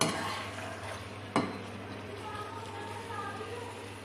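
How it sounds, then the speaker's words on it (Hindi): Yogurt goes into a pan of white chicken karahi and gets stirred, giving soft scraping and a low sizzle with one sharp clink partway through, under a steady kitchen hum. "अब जाएगा इसमें दही"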